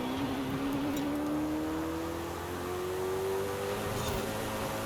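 A Koenigsegg supercar in Forza Horizon 5 holds a steady engine note that climbs smoothly in pitch as it accelerates, close and continuous for several seconds without talk.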